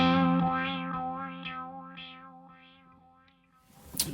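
An electric guitar played through a BOSS DD-500 stereo delay with sine-wave modulation sustains a chord that sweeps smoothly in a regular pulsing rhythm and slowly fades, then a short noisy burst is heard at the end.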